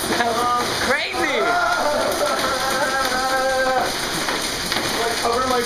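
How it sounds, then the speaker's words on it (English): Hail pelting a skylight during a storm, a dense, steady clatter that is loud and close, mixed with heavy rain, while people talk excitedly over it. "That is the hail on our skylight."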